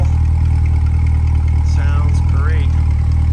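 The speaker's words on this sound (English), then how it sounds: "Here's your exhaust rumble." A 2021 Chevrolet Corvette C8 Stingray 2LT coupe rumbles from its exhaust with a deep, steady, loud drone up close, while a voice briefly speaks over it.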